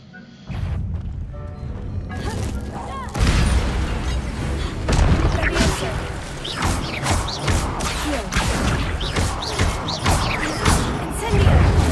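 Fire spell blasts in the Hogwarts Legacy video game during a fight, a string of loud booming bursts and crashes with dense clashing effects throughout, one after another without pause.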